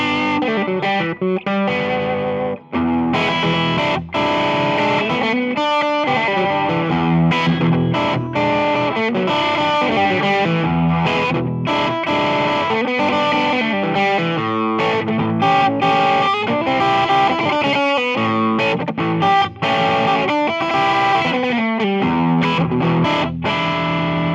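Electric guitar on a gain setting with a quacky, nasal distorted tone, played as a continuous loud, busy riff of chords and notes for over twenty seconds, with no talk.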